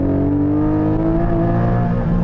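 Porsche 718 4.0 flat-six revving hard toward a 7,500 RPM redline, a loud, continuous close-up engine note with steady rising harmonics and no talking.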